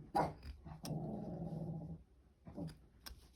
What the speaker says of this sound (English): there's the guard dogs.